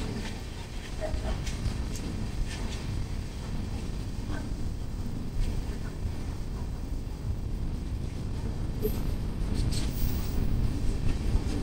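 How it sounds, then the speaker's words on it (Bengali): Train rolling slowly along a railway line through an elephant corridor on the Kolkata to Bhutan route, a steady low rumble and rattle of carriages throughout at moderate distance. "ওর জন্য ট্রেন ধীরে ধীরে যাচ্ছে"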